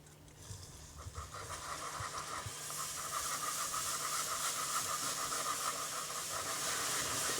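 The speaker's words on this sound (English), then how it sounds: "you want to go ahead and start incorporating the cream into it. And it's going to bubble up a little bit" Cream being whisked into hot caramel, a steady broadband hissing and bubbling that swells up and holds loudly throughout, with faint whisk clatter near the start.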